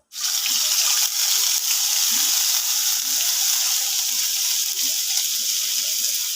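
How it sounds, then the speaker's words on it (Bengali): Cumin seeds dropped into hot oil in a pan burst into a loud, constant sizzle that starts abruptly and crackles steadily throughout, with no talking. "তেলটা গরম হয়ে গেছে। কিছুটা পরিমাণে আমি জিরে দিয়ে দেব।"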